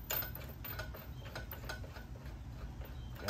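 A ratchet tightening a bolt on a Honda Goldwing front wheel, close and fairly quiet, its rapid clicking rhythm repeating steadily throughout.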